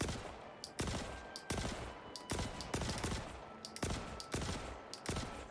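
Repeated bursts of SMG fire from the Kastak Arms Custodian in the video game Star Citizen, short volleys roughly every half second to second, loud and close, with no talking.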